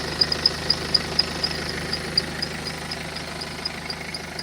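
A car engine idles steadily with a low hum, while a faint, rhythmic high-pitched squeak repeats from the idler pulley, not the belt, strongest in the first half.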